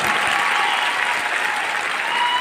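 A large crowd at a direct selling company's diamond-rank promotion event claps steadily and loudly, a dense, unbroken roar of hands with no other sound standing out.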